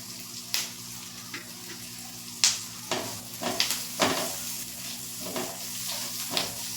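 Chopped onion and garlic sauté in a pan for matar paneer, a soft sizzle running underneath scattered scraping and stirring clinks, faint and close throughout.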